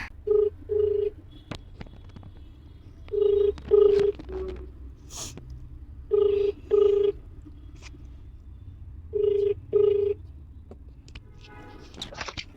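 A phone calling a friend, ringing in repeated paired bursts of tone separated by short pauses, four rings in all, clear and close over a faint background.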